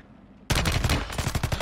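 Rapid automatic fire from a DG58 rifle in Warzone 3, bursting in abruptly after near silence and continuing as a dense, loud stream of sharp close shots.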